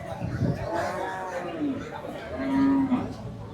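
A cow moos twice at a cattle market, a short low call then a longer sustained one, with people chattering nearby throughout.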